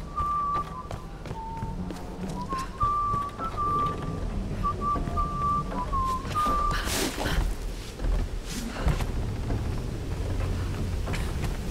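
An enemy whistles a tune in the Tomb Raider video game, a clear sustained melodic whistle with footsteps and game noise beneath, fading out partway through.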